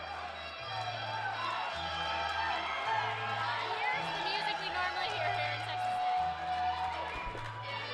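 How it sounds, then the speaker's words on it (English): A boxing crowd at a title fight in Texas City cheers and murmurs steadily at moderate distance, underneath continuous commentary, with a low repeating hum running through the background. "You can hear a lot of fans here to see Leija put this title on the line"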